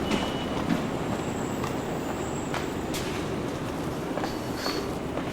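A New York subway train running, a steady loud rumble of wheels on rails with faint metallic squeals and clanks over it, continuous throughout, no talk.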